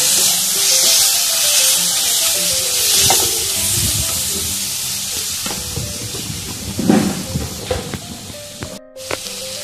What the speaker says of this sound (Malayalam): നല്ലപോലെ പച്ചമണം മാറുന്നത് വരെ വഴറ്റുക.